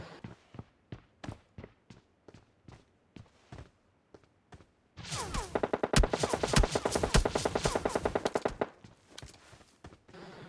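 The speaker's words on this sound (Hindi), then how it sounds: "और क्या भयानक बंदूक चला रहा है भाई, गजब आदमी है।" Groza rifle fire in a video game: a string of spaced single shots, then a dense sustained burst of rapid automatic fire for several seconds, loud and close, trailing off into a few scattered shots.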